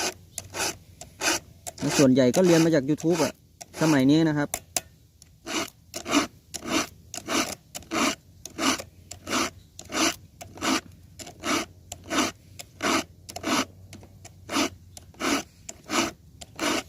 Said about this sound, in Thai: ส่วนวิธี แต่ง ฟันเลื่อยนะครับ